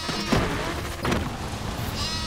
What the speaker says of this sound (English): I made a sheep horn